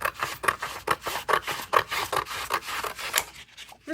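Paper for a junk journal is trimmed with scissors: a run of close, crisp snips and rustles repeats in a quick, steady rhythm, then stops.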